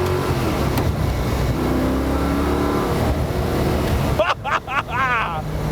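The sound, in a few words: Gardner Douglas T70 car engine accelerating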